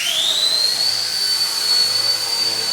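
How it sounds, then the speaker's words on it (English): An RC Era Mini Bell 206 toy helicopter spins up for takeoff: a loud, close electric whine that rises quickly in pitch, then holds a steady high tone over a faint rotor whoosh. "This one is definitely a lot more capable helicopter."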